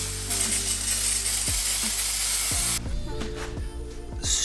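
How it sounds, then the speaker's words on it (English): An aerosol sprays down a part on a twin turbo Fox car, with a loud steady hiss that cuts off partway through, along with a few light metallic clinks. "Also gonna spray down this junk a little bit."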